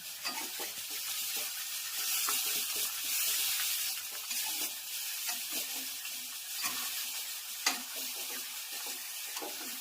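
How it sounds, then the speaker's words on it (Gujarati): Sesame seed tempering sizzling hot for patra, a loud continuous crackling hiss with stirring, steady throughout with a sharp knock late on. "તલવાળા મસ્ત મજાનો વઘાર"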